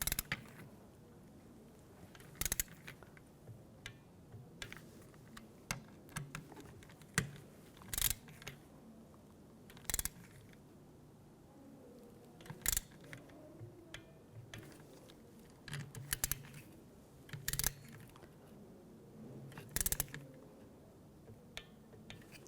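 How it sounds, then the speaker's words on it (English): A torque wrench tightens window regulator bolts inside the door of a 2006–2010 BMW 550i, giving repeated sharp ratcheting clicks in irregular bursts, close and crisp against a quiet background. "Now we're going to torque these to 52 inch-pounds"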